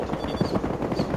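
AK-74 assault rifle in Battlefield Hardline fires a rapid automatic burst, with evenly spaced, punchy shots repeating loudly and close for about a second.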